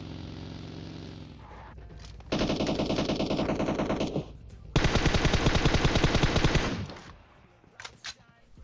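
Rapid automatic gunfire in PUBG Mobile as teammates fight each other over an airdrop: two long, loud, sustained bursts of machine-gun fire, separated by a brief pause and followed by a few scattered shots.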